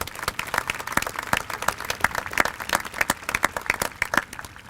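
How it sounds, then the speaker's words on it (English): Audience applause at a 2019 high school commencement ceremony for the facilities team, a steady, fairly close patter of many hands clapping throughout without pause, with no voices over it. "Please give them a nice round of applause"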